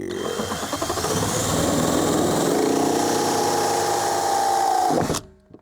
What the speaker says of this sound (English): We'll start by drilling a hole about right here.